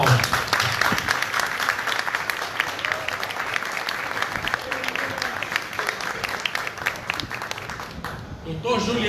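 A crowd at a speech event gives sustained applause, dense close clapping with scattered louder claps and voices mixed in, fading out near the end.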